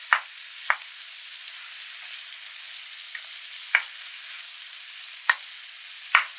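Minced beef fries for a bolognese sauce under a steady low sizzle, with a handful of sharp spoon scrapes against the pan spaced a second or more apart, close and fairly quiet.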